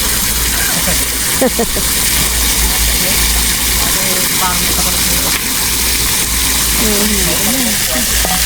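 Strong rushing water flows loud and steady outdoors among plants, a broad continuous gush with a low rumble beneath it, and voices speak over it now and then.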